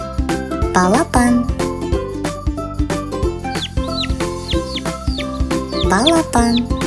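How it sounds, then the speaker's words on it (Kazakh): A young chick chirps in thin, quick peeping calls that repeat through the clip, set against a loud, bouncy music backing in a run of animal sounds. "Балапан."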